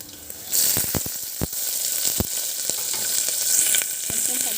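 Garlic, cumin seeds and green chillies fry in a spoonful of hot oil, a steady close-up sizzle broken by a few sharp clicks and scrapes as the pan is stirred.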